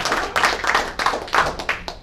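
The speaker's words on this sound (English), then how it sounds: "give him a round of applause." Audience applause for a magic performer at a magicians' ring meeting, a short burst of brisk, fairly close clapping.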